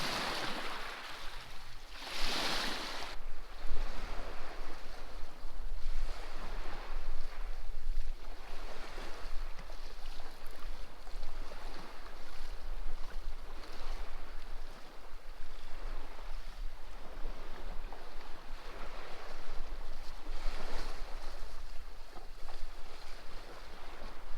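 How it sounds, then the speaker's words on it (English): Beach waves surge and wash over rocks at Rockport State Park, a continuous broadband roar of moving water with periodic swells and a brief louder splash near the start, no voices. "Here's a good demonstration of how much the water moves the rocks around."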